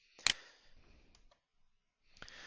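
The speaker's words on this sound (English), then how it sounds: "just hit the Enter key on the keyboard to create a little bit of a separation here" A single sharp click of the Enter key on a computer keyboard, close and crisp, followed by a softer trailing rattle and another fainter key tap after a short silence.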